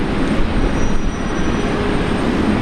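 A Velocity airliner taking off from runway 19 left at Brisbane Airport, a loud, steady, broad engine roar from a distance that holds without letting up through the whole stretch, with no voices.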